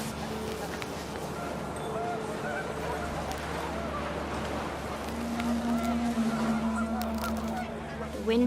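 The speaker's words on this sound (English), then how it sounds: "panicked geese appeared and quickly went" Panicked geese honking in the video game What Remains of Edith Finch, a flurry of calls rising over a steady windy wash and low music, getting busier toward the end, with a voice speaking faintly in places.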